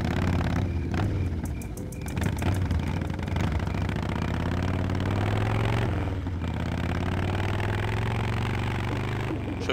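In the retro adventure game Full Throttle, a motorcycle engine fires up and settles into a deep, rumbling idle that runs loud and continuous, with a short rev partway through.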